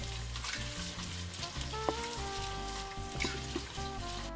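Chopped onion frying with garlic in olive oil in a pan over lowered heat for Spanish lentejas, a steady close sizzle with faint stirring clinks, alone without talk.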